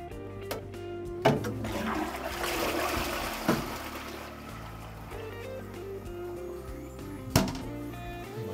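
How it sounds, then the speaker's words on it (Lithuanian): A toilet cistern in an older Vilnius apartment flushing, water rushing and gurgling through the bowl with a few knocks and clunks of the mechanism, heard fairly close at a modest level with no talk. "nuleidimas gražus, nusileidžia gražiai, sklendė užsidaro."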